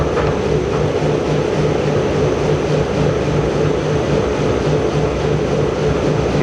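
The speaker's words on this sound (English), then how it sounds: "When I hit this button, we're going to feed, or we're going to tumble for 20 seconds up to the RPM" A Hammond Roto-Finish tumbling machine spins up with parts tumbling inside, producing a loud, steady, dense mechanical roar with a constant low hum throughout and no talking.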